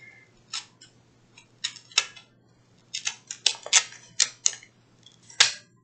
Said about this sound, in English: So I'm going to cut the paper and the tape, and I'm not pressing hard.